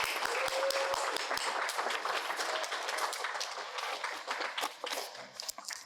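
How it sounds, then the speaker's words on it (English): Audience applause at a half-day symposium on compassionate leadership, a steady wash of many hands clapping that holds strong then thins toward the end, with a few sharp individual claps and faint voices underneath. "I want to offer a round of applause in advance and invite her to the stage."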